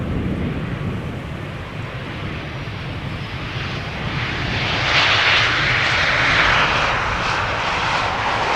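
An Airbus A320 jet airliner arriving at Amsterdam Schiphol, a loud continuous engine roar that swells slightly midway, heard without talk.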